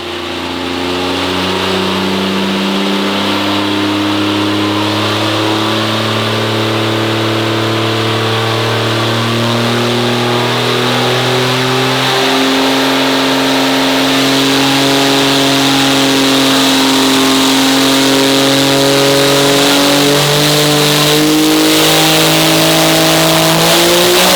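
A Seventy 2 race car engine runs hard on a dyno. It is loud and close throughout, with a sustained, rising revving drone and no talking.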